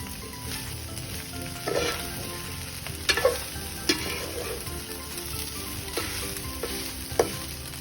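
Rice for Thai fried rice with egg and minced pork sizzles and crackles in a hot sukiyaki pot pan while a utensil scrapes and stirs in irregular bursts, close and moderately loud, with no talking.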